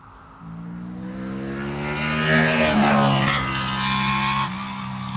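An old car with a VTEC engine revs up, its tone climbing and growing louder into a sharp mid-clip peak before easing off; the sound is close and carries a clear harmonic whine.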